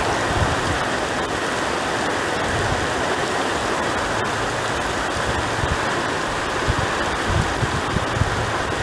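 A heavy downpour pounds the Marmaris shoreline in December, a dense, unbroken hiss and roar of rain that holds steady and loud from start to finish, with no voices.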